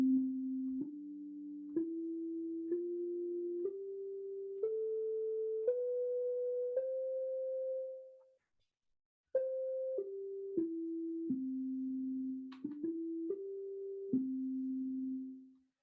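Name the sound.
sine wave tone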